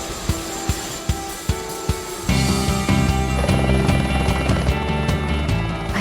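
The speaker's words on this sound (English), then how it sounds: "You guys are going on a helicopter ride over a volcano." Helicopter ride over a volcano: a steady, loud rotor and engine drone fills the cabin after a few rhythmic thumps, continuous and close with no talk.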